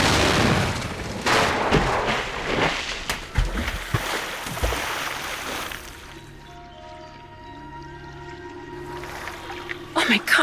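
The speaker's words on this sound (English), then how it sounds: "Whoever threw that ice ball at me must have set off an explosion that shattered the ice" In the Nancy Drew game, ice shatters in a loud explosion that is followed by crashing, rumbling bursts, and the noise then settles into a quieter watery ringing wash with one final burst.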